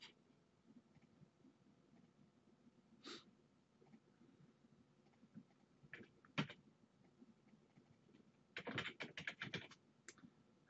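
Someone types in all capitals on a computer keyboard, starting with sparse, faint isolated key taps and then a quick close cluster of keystrokes near the end, with no speech.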